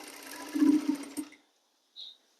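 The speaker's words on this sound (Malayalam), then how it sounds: "ഇനി ഇതിൻ്റെ പുറത്തൂടെ ഒരടി അടിച്ചു കൊടുക്കാം" Sewing machine stitching a kurti with lace, a steady mechanical whir that runs for over a second, then stops, followed by a brief faint high tone.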